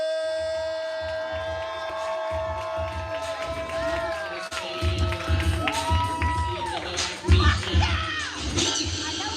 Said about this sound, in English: We clapping, we building energy, we making all the noise for L.J.